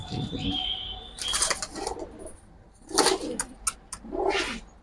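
Giribaz pigeons coo in several low, throaty bursts nearby, with a flutter of wings and faint background chatter.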